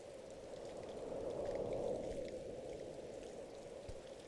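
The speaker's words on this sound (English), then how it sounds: "I like the sound of that rain. It sounds calming." Steady, soft rain patters in a video game scene, a continuous faint hiss of drops falling on a surface with no talk over it.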